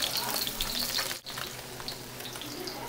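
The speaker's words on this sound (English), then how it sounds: "So you're just going to keep frying this until it gets golden brown" Tofu fries in a pan with a continuous loud sizzle and a crackling hiss, briefly dipping at one point and then steady again, with no talk.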